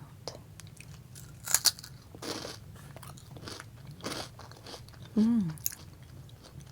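Spicy Indian snacks that look like long Cheetos, bitten and chewed up close: several crisp crunches and chewing sounds, with a brief hum of approval near the end.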